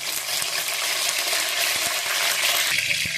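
Curry leaves dropped into hot oil for a fish fry crackle and sizzle loudly, with a continuous frying hiss broken by small pops and a spoon stirring in the pan.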